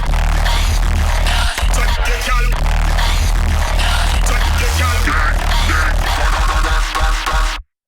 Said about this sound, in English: So basses and vocals all together now sound like this.